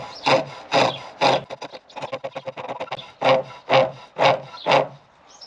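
A carbide chisel cuts a wooden tenon on a hand-made chair, giving a run of rhythmic rasping, scraping strokes, about ten in all, with a quicker burst of short strokes in the middle, close and fairly loud.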